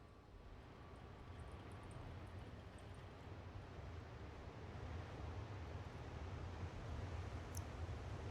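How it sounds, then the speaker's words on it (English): A waterfall in the video game Dishonored 2 makes a steady, faint rushing hiss of falling water, continuous and even throughout, with no talk. "there's the waterfall, helps power the place"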